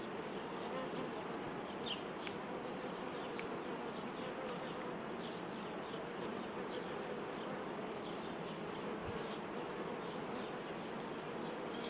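A dense, steady drone of many honey bees, mostly young, buzzing together at an apiary hive, continuous and close, filling the whole stretch without letting up.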